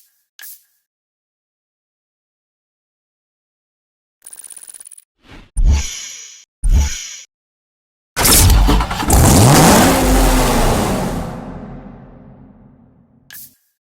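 A sixth-generation Corvette Z06 in the PS4 Pro racing game Need For Speed Hot Pursuit Remastered gives a few short mechanical clicks and thumps, then a loud engine roar that sweeps down in pitch and fades.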